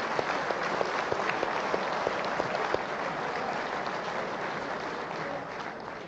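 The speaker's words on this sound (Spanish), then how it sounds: "Un aplauso." Steady, dense applause from a studio audience at the 2009 Venezuelan broadcast Aló Presidente with Hugo Chávez, loud and continuous throughout, tapering slightly toward the end.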